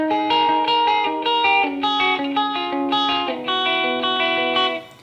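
A clean electric guitar plays a melodic run of single notes and small chords, up close and unaccompanied, each note fairly short with little ringing tail.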